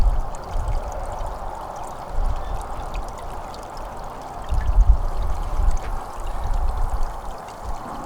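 Water pours and trickles steadily into the trap funnel of a gold recovery rig, a continuous close rushing flow with slight surges and no talking.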